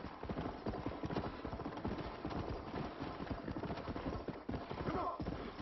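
Rapid, rhythmic hoofbeats from a horse in a video game clop steadily, like a horse trotting at a brisk pace, close and continuous with a muffled quality.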